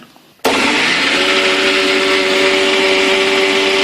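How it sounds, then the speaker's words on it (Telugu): A kitchen mixer grinder blends mushrooms with added water, switching on abruptly after a moment of quiet into a loud, steady whirring whine that holds to the end. "మళ్ళీ ఇప్పుడు కొంచెం వాటర్ పోసుకుని మళ్ళీ ఇంకొకసారి గ్రైండ్ చేస్తాం."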